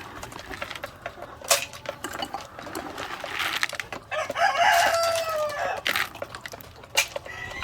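White leghorn chickens in a yard, scattered clucks and a drawn-out rooster-like crow midway, fairly close over a busy background of small clinks and rustles, no talking.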